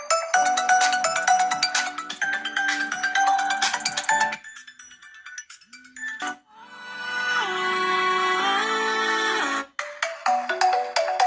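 Music plays through the single built-in speaker of an Honor 90 smartphone, a bright, tinny melody with a brief drop to near silence around the middle before the tune resumes loudly to the end.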